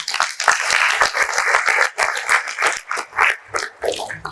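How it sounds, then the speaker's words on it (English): Clapping from an audience at an ICAI leadership event, loud and close, a dense burst that thins into uneven, choppy claps toward the end. "the big round of applause for the management committee, subcommittee, members, volunteers"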